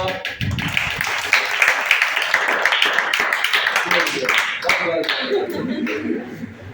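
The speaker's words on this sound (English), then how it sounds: "Everybody will clap for Aditya." Classroom students clapping for a classmate during a biology lesson, a scattered round of hand claps with voices talking over it.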